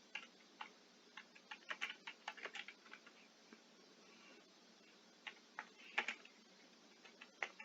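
Fingers tap irregular bursts of keystrokes on a computer keyboard, faint and close, with short pauses between clusters of clicks and no voices.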